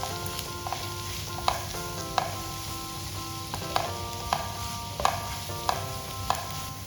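Onions for Kerala-style beef ularthu sauté in a hot pan with a steady, gentle sizzle. Occasional clinks of a spoon stirring and scraping come through, and a faint tonal hum runs underneath.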